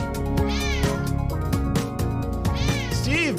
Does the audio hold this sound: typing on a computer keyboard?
no